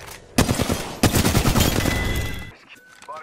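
Loud bursts of rapid automatic gunfire in a video game shooter on PS4 Pro, opening with a sharp volley that runs almost unbroken for about two seconds before cutting off to quiet background game sounds.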